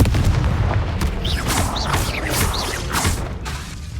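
A Confringo blasting curse fired in a Harry Potter-style video game bursts out as a string of loud, close booming explosions with crackling, whooshing tails, repeating steadily for about four seconds with no voices.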